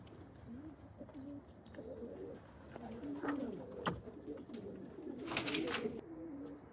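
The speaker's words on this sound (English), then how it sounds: "Now the pigeons come home" Pigeons coo repeatedly as they return home to the loft after a long race from Quilpie, with soft rolling calls close by, a few wingflaps or flutters, and steady faint background noise throughout.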